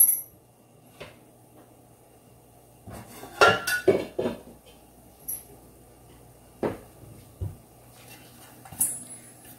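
A lid is set on a metal dosa pan with a cluster of clanks and clinks, followed by a few scattered lighter knocks in an otherwise quiet kitchen.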